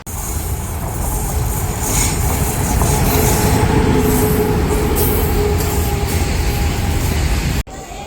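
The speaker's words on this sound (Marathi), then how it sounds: "फायनली तब्बल अर्धा ते पाऊन तासानंतर ट्रेन आलेली आहे" An express train rumbles loudly and steadily past at close range at a railway station, wheels clattering on the rails with faint squeals, then cuts off abruptly near the end.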